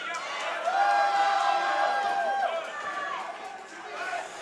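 Boxing crowd at Fury 40 for Alvaro Hurtado vs Lee Charles, a steady roar of cheering and chatter that swells early, then eases slightly and stays continuous throughout.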